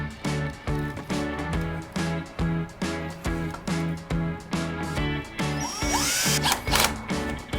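A power drill drives stainless self-tapping screws into a caravan, pulsing in a steady loud whir with rhythmic bursts up close, and a rising screech near the end as a screw bites in.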